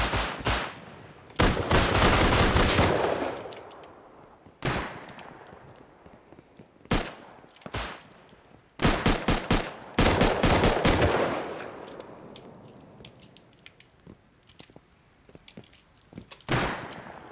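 Pistol gunshots in the video game Rust, loud sharp bursts of rapid shots in several clusters separated by short pauses, with echoing tails.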